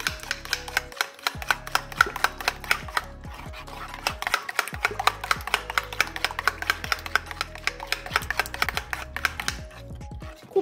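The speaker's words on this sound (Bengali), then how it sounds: "ডিমগুলোকে আমি সমস্ত মশলার সঙ্গে খুব ভালো করে ফেটে নেব।" Eggs are whisked with vegetable masala and chili powder in a bowl, a fast, even clatter of a fork or whisk against the bowl's side, close and continuous with a few short pauses.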